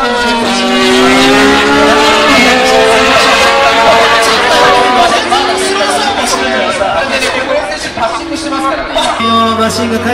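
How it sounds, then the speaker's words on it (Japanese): A Honda RC213V MotoGP bike and a Raybrig NSX Concept GT race car return along the Kumamoto circuit, engines droning and rising loudly with overlapping whine, while an announcer talks over the noise. "RC23V とそして NSX コンセプト GT、 レイブリッド NSX コンセプト GT が戻ってまいりました。"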